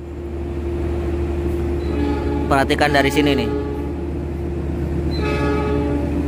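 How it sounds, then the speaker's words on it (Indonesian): The Lodaya passenger train passes on the adjacent track with a steady rumble while its horn sounds in a loud multi-tone blast, briefly repeated later; someone speaks over the noise. "Kita di sini disusul kereta api Lodaya, kawan."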